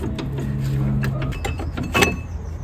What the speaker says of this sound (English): So let me remove the brake caliper. Just pull it off,